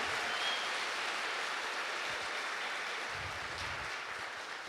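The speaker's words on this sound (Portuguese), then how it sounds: "Uma salva de palmas para Jesus" A church congregation applauds during a Sunday Mass homily, a dense, steady wash of clapping heard from a distance and at moderate volume, fading slightly toward the end.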